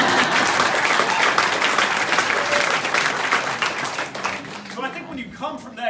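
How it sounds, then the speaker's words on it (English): An audience at a breakfast event bursts into sustained applause, dense clapping filling the room before tapering off toward the end, where a voice begins speaking. "you can clap"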